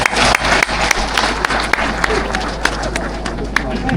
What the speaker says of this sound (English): Non-farmers, can you clap for us farmers?